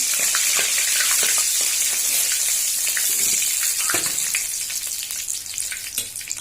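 Fish pieces deep frying in hot oil for a mustard fish curry, a dense, loud, continuous crackling sizzle that eases slightly toward the end, with no voices.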